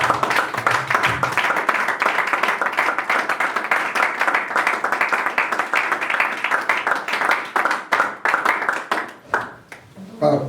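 A church congregation claps and applauds during a worship service, a dense, steady patter of many hands that thins into scattered individual claps near the end.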